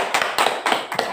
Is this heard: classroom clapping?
yes